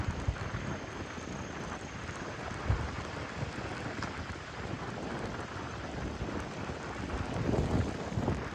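Steady heavy rain during a night journey from Chinnar Wildlife Sanctuary toward Udumalaipettai, a dense broadband hiss with wind buffeting the microphone, swelling slightly near the end.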